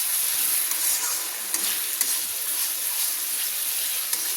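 Green chilli paste sautéing in chicken juices for a Bihari-style chicken masala, a steady close sizzle with soft stirring scrapes running throughout, no voices.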